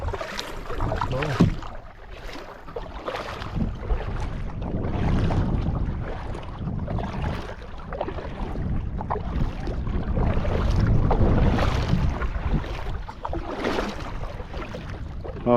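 A canoe is paddled across Canoe Lake on a calm, windless day, with soft repeated paddle strokes and water swishes close to the microphone, steady over a light background rush.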